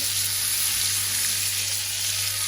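Peach slices frying in hot oil in a pan, a dense, continuous crackling sizzle that stays loud and even throughout with no voices.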